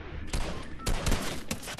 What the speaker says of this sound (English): Whoever's using the flare gun, can you aim a little higher?